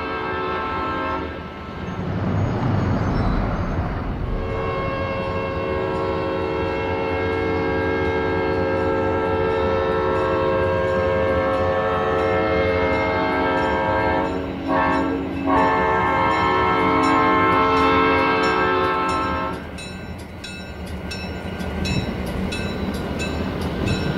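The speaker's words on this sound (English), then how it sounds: "An eastbound California Zephyr, train number 18, works its way down 3rd Street." An eastbound California Zephyr passenger train rolls down a city street, its air horn blaring in long sustained chords over the heavy rumble of the passing cars, loud and close.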